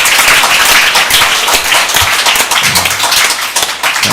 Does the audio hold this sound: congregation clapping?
yes